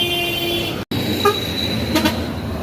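An intercity bus on the Padang–Jakarta route heads toward Jabodetabek and passes on the road with a steady, loud engine and road roar. Brief horn-like tones rise midway, and the sound cuts out for an instant.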